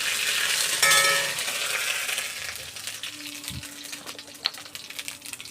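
Cumin seeds, chili and a bay leaf hit hot oil with a loud, hissing sizzle that gradually settles into a quieter crackle, marked by a brief clink near the end.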